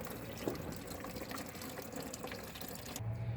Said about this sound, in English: Now we have a bucket. We're going to catch as much of this as we can.